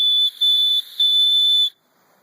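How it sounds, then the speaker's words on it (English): Whistle built into a Light My Fire fire steel being blown, a piercing high-pitched tone in three short blasts, the last one longest, then silence. "it has a rape whistle in it. I'm just teasing, but it is a whistle"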